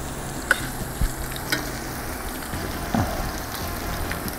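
Lobster paella sizzling and frying in a pan outdoors by the beach, a steady close crackle with a few sharper scrapes and taps from stirring, no talking.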